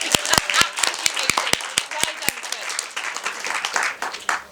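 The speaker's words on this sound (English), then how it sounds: "Let's give him another round of applause" Audience applause at the Golden Stake Awards 2022 ceremony for an award winner: a few sharp, distinct claps quickly swell into a denser, sustained patter that stays fairly steady throughout.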